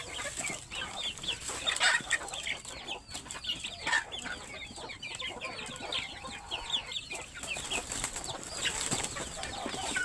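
A brood of chicks cheeping continuously, many small overlapping peeps close by, with the odd cluck from an older bird.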